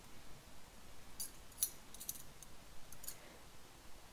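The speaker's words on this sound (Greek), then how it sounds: "και κόβω το κάθε κομμάτι προσεκτικά για να μην έχει ψαλιδιές επάνω το τούλι" Scissors cutting tulle fabric for a no-sew tutu skirt: a few quiet, crisp snips in small clusters against a faint room background.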